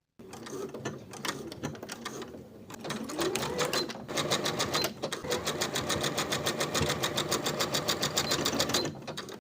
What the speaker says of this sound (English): Then we can sew that center front area with a wide zigzag stitch.